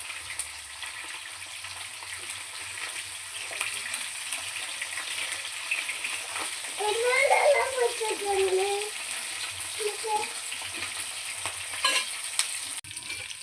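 Fish frying in oil with curry leaves gives a continuous moderate sizzle with occasional stirring and spattering bursts, swelling briefly midway, while a voice speaks faintly at times.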